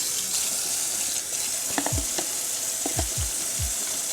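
Water poured into a hot pot of Liberian palm butter soup made with canned palm nut sets off a steady, close hiss and sizzle, with a few low stirring scrapes near the end.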